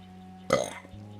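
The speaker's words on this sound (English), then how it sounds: "Belch. There you go." A single loud, close burp from a VTuber erupts abruptly mid-clip and trails off over a faint steady background hum.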